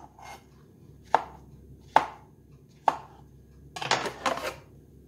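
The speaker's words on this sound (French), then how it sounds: "Je détaille mes pommes de terre en cubes" Potatoes are cut into cubes on a board: a few sharp, separate knife knocks spaced about a second apart, then a quicker cluster of chops near the end, close and crisp.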